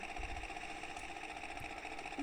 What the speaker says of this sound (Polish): Najpierw traktorem pojedziemy,